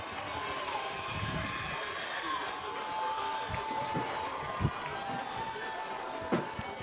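Crowd at a high school football game, Columbia Central at Tullahoma, makes a steady, fairly distant roar of cheering and noise from the stands, with a couple of sharp claps or bangs near the end.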